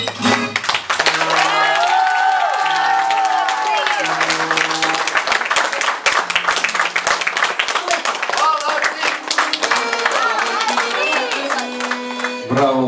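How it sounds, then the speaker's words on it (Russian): An audience applauds after a theatre skit by a fairy-tale troupe, with sustained clapping running under loud singing and music across the whole stretch. "Аплодисменты, друзья!"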